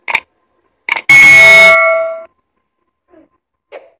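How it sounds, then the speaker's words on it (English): A bright metallic notification ding with a clear ringing tone that decays over about a second, framed by short clicks before and after it and heard alone with no speech. "click the notification bell"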